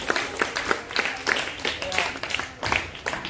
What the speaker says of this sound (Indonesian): Ya, tepuk tangan dulu buat kita semua.